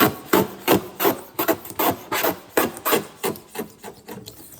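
Paint is sanded by hand off a C3 Corvette body in steady back-and-forth strokes, a close, loud, rhythmic scraping and rasping with no voices.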